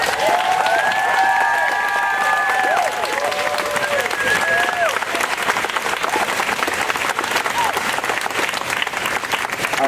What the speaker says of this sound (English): let's give a big round of applause to Jesus.